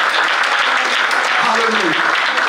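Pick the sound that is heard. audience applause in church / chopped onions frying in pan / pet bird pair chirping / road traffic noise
audience applause in church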